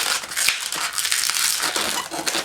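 A latex balloon being twisted into a pinch twist while forming small round bubbles, giving a continuous close rubbery squeaking and crinkling that runs the whole time with no one talking.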